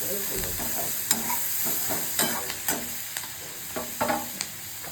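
Potatoes frying in a pan for pav bhaji, a constant sizzle broken by repeated scraping stirs of a spatula against the pan, close and clear.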